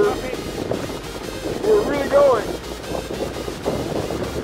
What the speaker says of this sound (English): Good wind and on the broad beam reach.